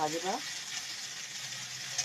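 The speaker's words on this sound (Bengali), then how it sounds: "আদা লঙ্কা বাটাটা দিয়ে দেবেন। এটা একটু ভাজবেন" Ginger and chili paste sizzles in hot oil in a pan for vegetarian ghugni, a steady soft frying hiss throughout, with a brief voice at the very start.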